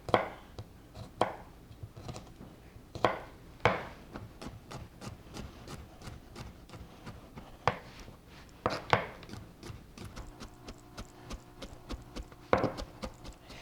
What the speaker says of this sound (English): we're going to go ahead and mince our garlic.